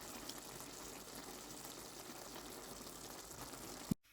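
Mutton pilau rice simmering in a pot over medium heat, a soft steady bubbling and hiss of liquid, faint and continuous, cut off abruptly by a brief thump near the end.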